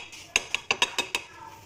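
Flour batter mixed in a bowl with a utensil, six sharp clinking taps against the bowl's side in quick, slightly uneven succession, close and fairly loud.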